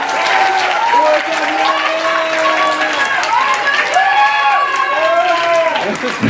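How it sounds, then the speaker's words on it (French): Concert audience applauding at an outdoor show in La Bourboule, loud sustained clapping with cheering voices and whoops rising over it. "Donc vous pouvez l'applaudir, c'est un gros défi."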